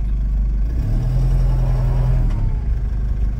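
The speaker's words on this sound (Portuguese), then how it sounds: "Escutaram? Desligou o 4x4." A Toyota 4x4 pickup's engine runs loud and close as the four-wheel drive disengages, a steady tonal whine rising in the middle and then dropping away over the idle.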